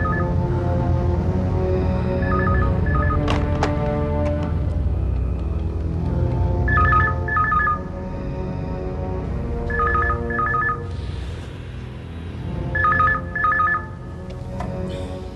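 A telephone rings repeatedly during an unanswered call attempt in a Hindi crime-drama scene, its paired electronic ring bursts recurring at steady intervals over a continuous bed of background music and ambience.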